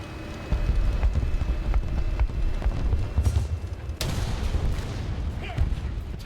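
Tank cannon shots and explosions in the War Thunder video game, featuring an M1 Abrams, come as a sharp blast cutting through a steady rumble of engine and battle noise, with quieter thuds scattered around it.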